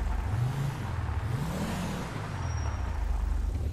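A car engine drones steadily with rising and falling revs as the vehicle drives through a metro area in GTA V, continuous and close, with a faint whir above it and no talk.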